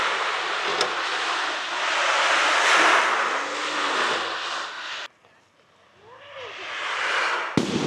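An ocean drum filled with stones is slowly rotated in a sound garden in Auroville, giving a loud rolling surf-like wash that swells, stops briefly, then rushes back in.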